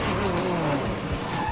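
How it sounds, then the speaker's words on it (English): Rally car doing a handbrake turn with its rear wheels locked by a hydraulic system, loud tire skidding and squeal with engine roar, close and continuous for a short burst. "An independent hydraulic system locks the car's rear wheels, and around you go."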